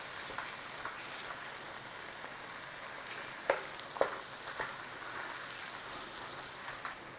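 A spoon stirs sardines in a hot pan, with a steady soft sizzle throughout and a few brief scraping clicks as the fish is turned over, close by with no talk.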